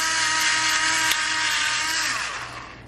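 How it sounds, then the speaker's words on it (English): An automatic electric salt and pepper grinder runs with a steady, close, high motor whine and grinding buzz for about three seconds, then winds down and fades. "It's going to automatically start grinding for you and dispense it"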